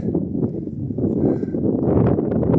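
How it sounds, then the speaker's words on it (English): Steady wind blowing hard across an open microphone on a mountain summit in the High Tatras, a continuous low buffeting roar with gusts that swell toward the end. "but it's so windy"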